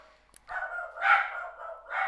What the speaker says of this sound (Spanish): perdonen los perros